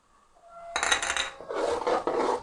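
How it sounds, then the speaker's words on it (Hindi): About half a spoon of cumin seeds goes into onions frying in a pan, a sudden close sizzle and scrape that starts after a quiet moment and continues with crackling hiss and light metal clinks. "अब जाएगा तकरीबन आधा चम्मच ज़ीरा।"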